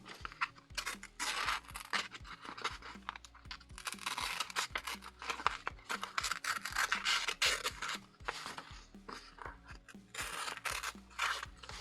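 A cheap AliExpress knife cuts through material during a sharpness test, making a series of sharp scraping, rasping strokes with clicky, uneven bursts close to the microphone, no talking.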